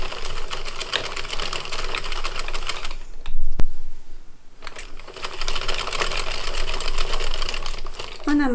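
Domestic knitting machine working 15 rows for a knitted rabbit doll's ears: loud, steady mechanical rattling as the carriage slides across, a brief pause midway, then another rattling pass.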